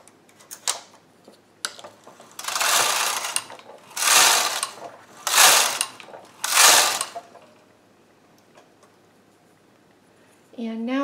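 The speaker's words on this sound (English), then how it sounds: "And now I'm just going to go ahead and knit all the stitches so I can show you what that looked like." A Studio 150 chunky knitting machine carriage is pushed back and forth across the bed, four loud rushing, whirring passes with light clicks between them, and a brief voice at the very end.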